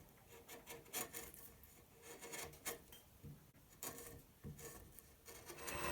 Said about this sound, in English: I've just been doing some shear scraping